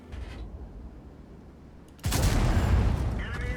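A tank cannon fires in the World of Tanks video game on a test server. After a quiet opening, one sudden loud blast booms in about halfway through and rolls into a heavy, rumbling tail.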